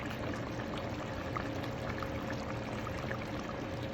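Stew of three meats, vegetables and Asian spice bubbling in a pot just after the heat is cut off, a dense continuous simmering fizz heard close and alone.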